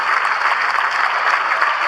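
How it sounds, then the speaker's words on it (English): Loud, sustained crowd applause from the Pitman side at a 2013 boys high school basketball final against Paulsboro as a player leaves the game, a thick continuous roar of clapping filling the gym. "Datz will come out of the game now and gives a round of applause from Pitman."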